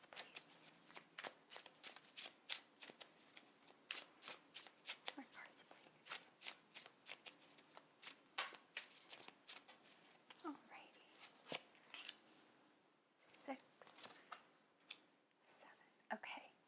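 Tarot cards shuffled and drawn for a card reading, a dense run of quick, soft riffling flicks and slaps close to the mic, with a few quieter whispery taps in between.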